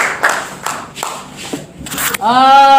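A classroom audience gives a student a short round of applause: a handful of separate claps spaced about half a second apart, followed by a voice speaking.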